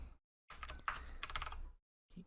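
Typing on a computer keyboard during script writing, quiet clusters of rapid key clicks in two bursts separated by short pauses, faint and close.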